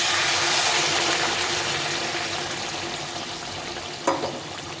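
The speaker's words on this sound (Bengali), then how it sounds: "এই গরম জলটা দিয়ে দেবো" Hot water pours into a pan of simmering cauliflower, pea and paneer curry, a steady hissing sizzle that slowly eases, with a brief clink near the end.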